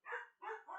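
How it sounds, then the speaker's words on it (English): A dog gives two or three quick barks close by indoors, short and clear against a silent background. "And the dog barking again."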